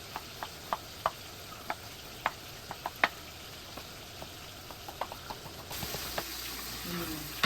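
Bacon cooks in a pan with a soft background sizzle, broken by scattered sharp pops and spits at an uneven rhythm, some louder than others. Near the end the frying noise swells and grows more hissy.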